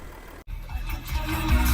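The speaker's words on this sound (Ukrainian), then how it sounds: "Я хочу вам передати цей звук, звук дизеля." Diesel engine of a B7-generation Audi A4 idling after a cold start, a steady low rumble that builds slightly in loudness, close by with no talking.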